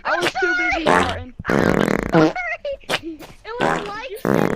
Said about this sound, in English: I was too busy farting.